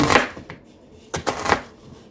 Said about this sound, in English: is slice up our onions, because we're going to top this burger with some sauteed onions and Swiss cheese.